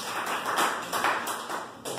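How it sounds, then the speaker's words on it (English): An audience at a pub gig gives a round of applause, steady hand claps rising and falling over two seconds, fairly close and fairly loud with no voices on top. "So round of applause to the coffee drinkers"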